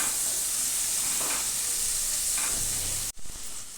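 Pumpkin pieces with salt and turmeric hiss and sizzle steadily in a frying pan on a gas flame, with a couple of soft stirring scrapes and a sharp clack near the end.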